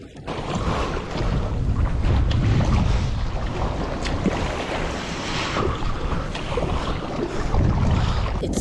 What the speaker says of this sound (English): Some big waves here.